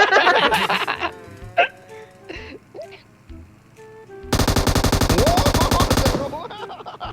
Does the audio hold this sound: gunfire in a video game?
yes